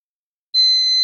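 A sari-sari store alarm sensor suddenly starts a steady, piercing high electronic tone that cuts in from silence and holds loud and close.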